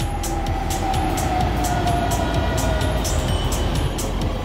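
Steady rumble of a Pune Metro train running on its tracks, with regular clicking clatter from the wheels over the rails.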